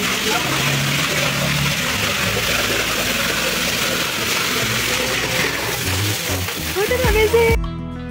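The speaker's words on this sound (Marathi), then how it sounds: "धबधबा." Steady broadband rush of a waterfall near Hadshi Temple, close and loud throughout, with voices and a short melodic tone near the end.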